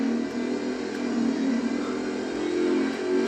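A motorcycle engine runs steadily while being ridden around a farm, a close, continuous mid-pitched drone that swells slightly near the end, with no talking.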